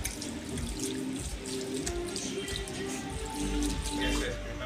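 Faucet water runs and splashes while hair is rinsed at a salon wash basin, a soft continuous stream close by, with quiet talk in the room.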